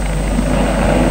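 Helicopter in flight, giving a steady, loud rotor and engine roar that holds evenly throughout with no pauses.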